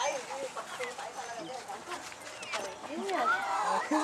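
Hens clucking in short, repeated calls close by, with people talking underneath and a lively outdoor background.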